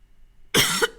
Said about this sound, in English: Can't get rid of this cough.